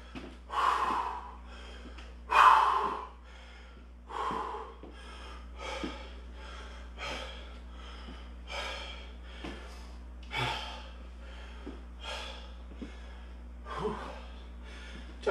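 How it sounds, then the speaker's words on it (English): Heavy, gasping breaths and snorts from people resting for a minute after a hard round of total body training, several deep exhalations in an irregular rhythm, close and fairly quiet over a steady low hum. "Nice deep breaths. Slow down that breathing."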